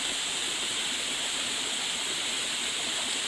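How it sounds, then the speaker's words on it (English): Mountain cascades on Franconia Ridge in winter, running at a somewhat low flow, make a steady, even rush of water that carries on unbroken throughout. "Water flow looks a little low, but that's still nice nonetheless. Just more and more cascades galore."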